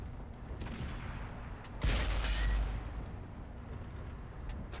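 Artillery fires in World of Tanks, a deep, rumbling boom rolling out for about a second amid steady battlefield ambience, with a few faint sharp cracks elsewhere.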